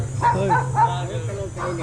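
Dogs bark repeatedly at a street market in the Philippines, several yelping barks in a loose, uneven rhythm close by over steady background crowd noise and hum.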